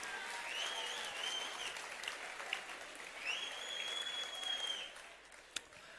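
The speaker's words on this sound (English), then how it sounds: "Give them a round of applause." An audience applauds in a steady, continuous wash of clapping, fairly quiet and distant, with a faint high-pitched whistle-like tone drifting above it and a single sharper clap near the end.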